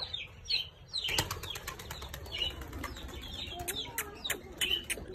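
Repeated bursts of wings flapping as pigeons take off from a rooftop and flutter, with faint chirps and soft coos in the background.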